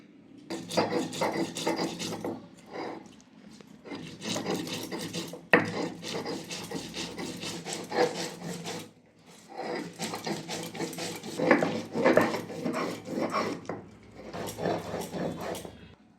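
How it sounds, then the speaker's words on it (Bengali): Black and white mustard seeds ground into a paste for mustard hilsa, a steady rough rasping and rubbing in long repeated strokes, close and fairly loud, with brief pauses between bursts and no talking. "আমি এখানে দু রকম সর্ষে নিয়েছি কালো সর্ষে সাদা সর্ষে আর বেটে নেব"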